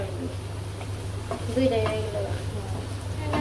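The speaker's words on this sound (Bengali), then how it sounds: "মাংসটা কষানো হয়ে গেছে" Meat frying in oil and spices in a village kitchen sizzles steadily with soft stirring scrapes, all under a constant low hum and faint background voices.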